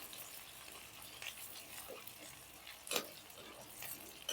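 Sliced onion fries in hot oil with garlic for a quick capsicum bhaji, making a faint, continuous crackle with a few sharper pops scattered through it.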